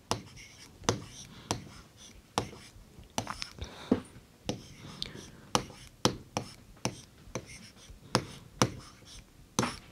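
Chalk or pen tapping and scratching in short, sharp strokes, many separate taps in an irregular rhythm, close and fairly quiet, as an answer about February's days is written out by hand in a class 3 maths lesson.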